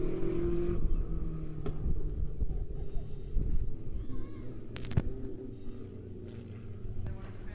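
USRA tuner race cars roar through a heat race on the Bolivar Speedway dirt track, engine drone rising and fading as they pass, with wind buffeting the microphone and an announcer's voice.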